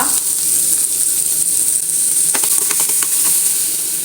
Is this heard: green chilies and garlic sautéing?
yes